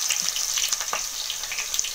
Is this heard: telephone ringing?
no